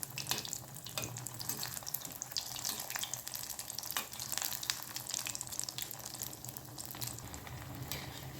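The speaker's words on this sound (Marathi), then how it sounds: "आणि याला छान गोल्डन रंग येईल तोपर्यंत आपण हे फ्राय करून घेणार आहोत." Spinach patties sizzle steadily in a hot pan with oil, a soft, even crackle running throughout without voices.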